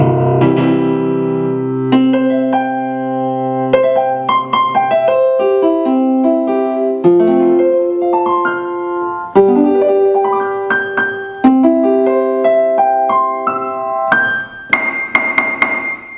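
Casio CDP-100 digital piano played through an acoustic guitar amp, a flowing melodic passage of chords and single notes with ringing sustain, loud and close with no talking.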